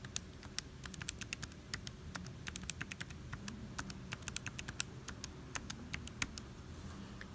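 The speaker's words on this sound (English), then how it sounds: "So this is how we're going to type that in." Calculator keypad buttons pressed one after another while a multi-step calculation is entered, a quick irregular run of light, close clicks and taps over a faint steady hum, with no speech.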